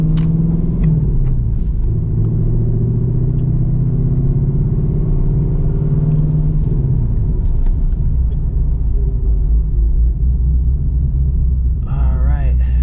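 A Ford S650 Mustang GT cruises through rush-hour traffic, its engine a steady deep rumble heard from inside the car, with a brief voice near the end.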